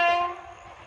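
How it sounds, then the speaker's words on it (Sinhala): A train runs past paddy fields in Kerala. A single loud horn blast starts the moment and then fades into a low rumble. "මේ තමයි දැන් ට්‍රේන් එක යන place එක"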